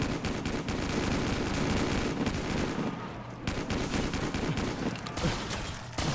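Automatic weapons blast in a video game zombies map: dense, continuous rapid gunfire, loud and close, with only a brief lull midway.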